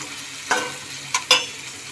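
Chopped onions and green chillies frying in oil in a pan, a steady close sizzle with a few short stirring scrapes, no talking.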